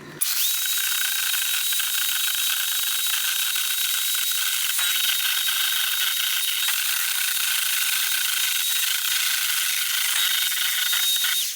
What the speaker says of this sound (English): Here we go with the whipping.